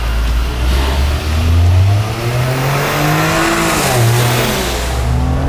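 A Volkswagen Golf 8.5 GTI launches hard in a drag race, its engine loud and close as it revs, climbs steadily in pitch through a gear, dips at a shift, then pulls again.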